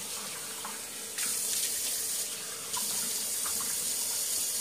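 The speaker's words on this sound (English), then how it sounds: "Let's go ahead and rinse the face." Water runs steadily from a bathroom faucet into a sink while a face is rinsed, a close hissing stream that swells louder partway through, with no talking.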